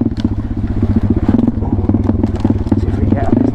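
A pit bike's combustion engine runs steadily under load on rough, hilly off-road ground, with a loud, throbbing low exhaust, clatter from the ride, and wind and rumble close to the mic.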